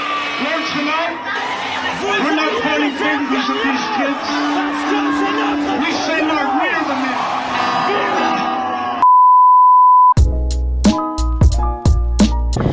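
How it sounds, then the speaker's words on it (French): Rally crowd cheering, whooping and clapping loudly for about nine seconds, then a sudden cut to a steady electronic tone followed by a rhythmic music beat. "Vous pouvez l'applaudir."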